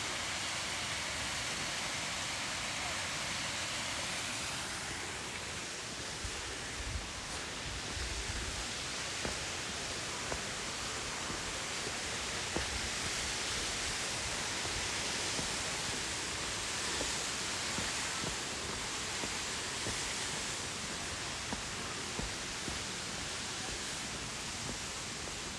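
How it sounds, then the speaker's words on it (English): A waterfall at Paradise in Mount Rainier National Park roars as a steady, broad rushing wash, with occasional faint footsteps and rustles over the continuous water noise. "Oh, you can see the falls just a little bit right through here."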